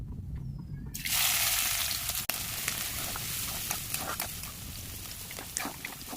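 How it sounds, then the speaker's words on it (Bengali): Chopped onions tipped into hot white oil with tempering spices for a Kolkata-style chicken bharta burst into a loud, steady sizzle, with crackles and occasional stirring scrapes continuing close up. "এবার দিয়ে দেব কুচিয়ে রাখা পেঁয়াজ।"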